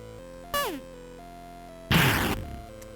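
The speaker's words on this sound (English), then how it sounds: "it will make different explosion style sounds" Free sound-effect software plays randomized 8-bit retro game sounds: a short descending chirp, then a loud harsh burst of crunchy noise, each brief and synthetic, with no voices.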